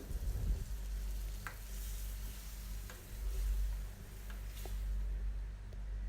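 Prawn curry with coconut paste, water and salt is stirred in a pan, with soft scraping strokes over a continuous gentle sizzle for several seconds and no talking.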